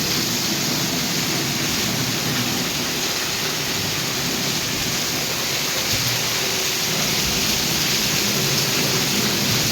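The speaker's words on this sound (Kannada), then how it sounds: "ನೋಡ್ರಿ ಎಷ್ಟು ಜೋರು ಐತೆ ಮಳೆ" Heavy rain pours down in Bijapur in a dense, continuous roar with no break, steady and loud throughout, with no voices heard.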